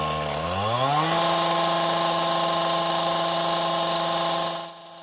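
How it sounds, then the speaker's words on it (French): On a construction site a chainsaw revs up, its whine rising in pitch, then holds a loud, steady high-pitched drone for several seconds before cutting back. "La tronçonneuse, ça fait du bruit et ça fait mal aux oreilles."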